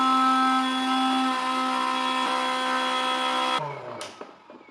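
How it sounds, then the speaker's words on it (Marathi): An Atomberg Zenova mixer grinder runs at a steady high whine with a smooth motor hum, close and loud, then switches off and winds down near the end. "मिक्सर ग्राइंड चालू होईल।"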